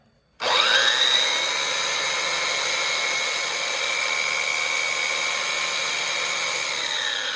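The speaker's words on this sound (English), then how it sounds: "just sand this half on this side" A power sander running steadily on the edge of a wooden board for bean bag board legs, a loud continuous whine that starts suddenly and holds close and even throughout.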